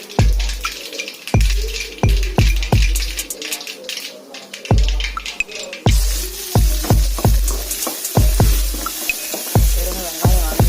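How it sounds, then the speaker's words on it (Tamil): Onions, chili and curry leaves sautéing in a pan for a village-style tomato sambar, with steady close frying hiss and repeated regular thumps and scrapes of a spoon stirring. "வெங்காயம் மட்டும் போட்டு வதக்கலாம்."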